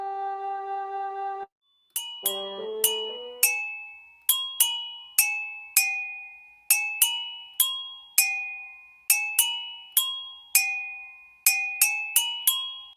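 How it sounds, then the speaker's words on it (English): Glass bell percussion struck in a lively run of bright ringing notes, each chime decaying quickly, following a brief sustained tone and a short pause; clear and close with no voices. "I think I'd like a glass bell in with it"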